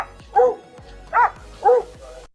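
A dog at a dog park barks three times in a loose, uneven rhythm, each bark sharp and fairly close, with quiet background between them.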